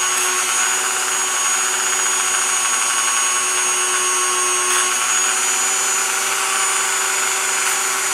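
A rotary tool spinning a small buffing wheel polishes a Glock 20 SF pistol part, giving a steady, loud, high-pitched whine that holds unbroken from start to finish.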